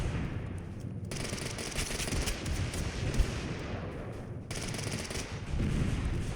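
Rapid automatic gunfire rattles on and off in Totally Accurate Battlegrounds, with dense bursts of shots that cut off briefly and then resume, at moderate loudness.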